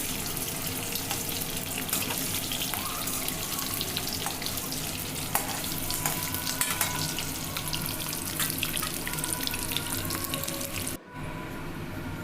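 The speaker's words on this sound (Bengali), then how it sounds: "ডিমগুলোকে ঠিক এরকম লালচে করে ভেজে নেব, আলুটাও ভালো করে ফ্রাই করব" Eggs and potatoes frying in oil, a steady loud crackling sizzle running continuously with occasional sharper pops, cut off briefly near the end.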